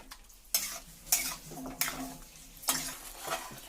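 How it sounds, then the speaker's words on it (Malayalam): Yogurt is stirred into handi chicken masala in a pot, a series of about five rhythmic spoon scrapes and soft wet sloshes over a quiet simmering background. "നമ്മൾ തൈര് ചേർത്തിട്ട് നന്നായിട്ട് ഇളക്കണം."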